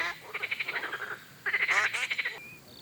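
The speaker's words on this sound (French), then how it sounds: "J'entends beaucoup de grenouilles et de canards." Rhythmic, chattering frog croaks in two bursts, with a brief nasal duck call near the end, close and fairly loud; no talking.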